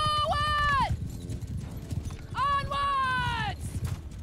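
Horses run in Mount and Blade Bannerlord, steady clip-clop of hooves under a battlefield din, with two drawn-out whinny-like tonal calls rising and falling over the hoofbeats.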